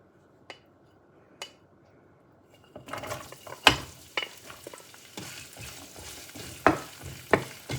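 Ginger and garlic sautéing in hot oil for moose meat, a few isolated taps before a sizzle starts, then steady frying with repeated sharp scrapes and clinks of a spoon stirring the pan.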